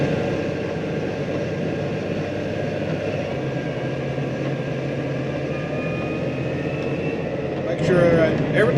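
A blue tractor's heavy engine drones steadily in four-wheel drive under a heavy load while pushing through deep snow, a constant low rumble that swells louder near the end.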